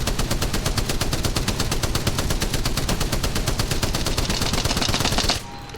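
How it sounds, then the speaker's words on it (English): Rapid automatic gunfire from a weapon in the shooter game Apex Legends, a dense unbroken burst of shots lasting about five seconds, loud and close, then cutting off abruptly. "Let's say I want to shoot that target over there."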